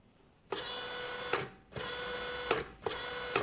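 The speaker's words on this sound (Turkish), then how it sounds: "Çok düşük devirde çalışıyor makine." An industrial sewing machine driven by a silent servo motor runs at low speed in three steady mechanical stretches with brief pauses between them, a faint even whir with a light rapid ticking.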